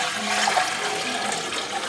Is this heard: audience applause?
no